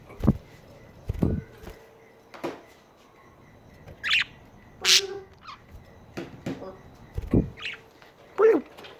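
Pet budgie chirping indoors in short bright bursts and squawks scattered over several seconds, close by, with a person speaking softly between the calls.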